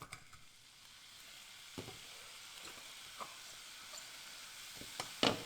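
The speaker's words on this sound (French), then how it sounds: "Tu prends tes champignons, tu les mets dans une poêle avec un petit peu d'huile." Mushrooms frying in a pan with a little oil make a soft, even sizzle with a few faint stirring knocks and a brief louder scrape at the end.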